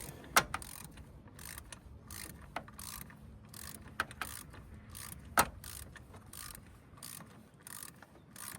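A socket wrench ratchets on engine bolts tucked under a 1993 Ford Taurus 3.8 during an oil pump replacement, giving scattered, irregular clicking bursts up close with a few sharper metallic clacks.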